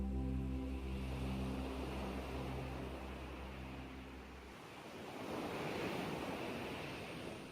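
Soft ocean waves wash on a beach, a broad hissing surf that swells gently; a sustained tonal drone plays over it at first, then fades and leaves only the rolling waves.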